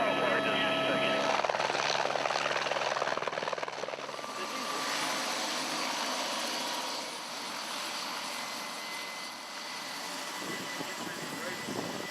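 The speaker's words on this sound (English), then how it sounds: "You got a chopper coming." A rescue helicopter over a flooded valley drones loudly nearby, its rotor thrum continuous and steady throughout, slightly easing toward the end.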